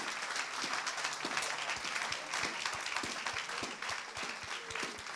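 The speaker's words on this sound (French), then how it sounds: "Alors applaudissons-le très," A church congregation applauds loudly and steadily throughout, a dense wash of many hands clapping with occasional cheers rising above it.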